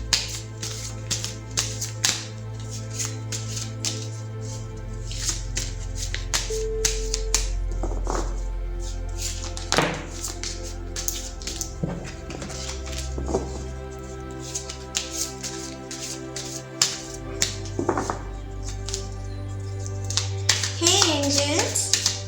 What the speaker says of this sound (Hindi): तो पहले ज़रा मैं कार्ड्स को शफल कर लेती हूँ।